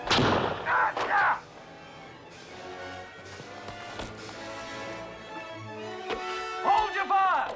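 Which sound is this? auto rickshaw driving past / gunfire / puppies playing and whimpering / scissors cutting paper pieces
gunfire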